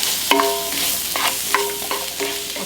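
Onions frying in a pan for corned beef hash, a constant loud sizzle with a few metallic scrapes and taps of the stirring utensil against the pan, close up with no talking.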